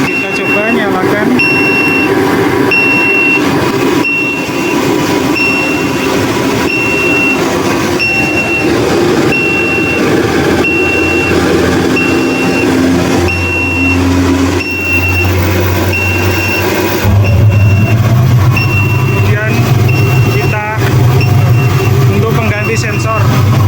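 An industrial incinerator burner and its blower switch on, giving a loud continuous roar with a steady hum and a repeating high electronic beep, the low drone deepening partway through as the machinery ramps up.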